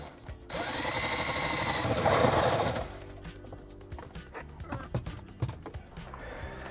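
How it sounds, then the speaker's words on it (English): A power drill bores a hole for cables in the back side of a panel in a Winnebago Revel camper van, whirring steadily for about two seconds, then stopping, followed by faint clicks and knocks. "I just drilled a hole into here, into the back side of this, and then feed the cables through that hole"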